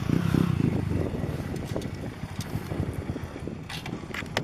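A Suzuki Gixxer motorcycle being ridden, its engine running as a steady low rumble with wind buffeting the microphone throughout, faint clatter above.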